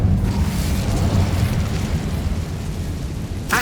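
Incendio fire spell blasting in the video game Hogwarts Legacy, a loud sustained roaring whoosh of flame that holds steady for over three seconds before cutting off, with no speech.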